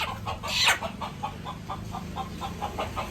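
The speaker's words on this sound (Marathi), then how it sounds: "तर याच्यामध्ये दाखवतो ती गावठी कोंबडी कशी आहे" A village hen clucks nearby in a steady run of short, evenly spaced clucks, faint but clear, with no talking over it.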